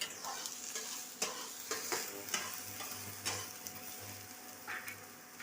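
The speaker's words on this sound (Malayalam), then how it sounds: "ഇത് ഉള്ളിയും പച്ചമുളകും അരിഞ്ഞത് വരട്ടി അത് കഴിഞ്ഞ് രണ്ട് മുട്ടയും ഒഴിച്ചു ഒഴിച്ച് വരട്ടുകയാണ്" Eggs with chopped onion and green chilli sautéing in a pan at home, a steady close sizzle broken by repeated sharp scrapes and taps of a spoon stirring, no talking.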